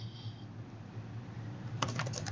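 Typing on a computer keyboard, faint hum at first, then a quick burst of close key clicks near the end.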